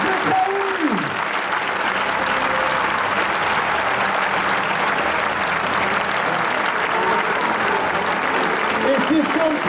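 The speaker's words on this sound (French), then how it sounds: "je voudrais que les applaudissements résonnent dans cet amphithéâtre pour le raseteur Lucien Zekraoui" A crowd fills an outdoor amphitheatre in Arles with sustained applause during a course camarguaise award ceremony, a loud, even roar of clapping that holds steady for several seconds, with a faint announcer's voice near the start.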